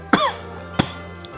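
A person imitates a girl's cough, giving two short, sharp bursts a little more than half a second apart, loud and close, with quiet in between.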